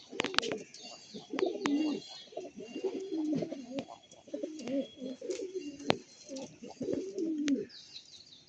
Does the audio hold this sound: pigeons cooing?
yes